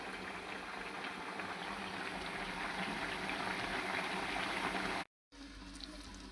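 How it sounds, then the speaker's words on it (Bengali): Pots of fish curry and lentils bubble on a stove, a steady dense boiling hiss and gurgle that holds evenly, broken by a brief gap. "এই যে এদিকে ডাইল বসাই দিছি ডাইলেও বলক চলে আসছে"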